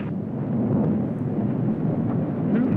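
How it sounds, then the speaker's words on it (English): Deep, rolling rumble of thunder that holds steady and continuous throughout, low and heavy with no voices. "Yeah, but that was thunder."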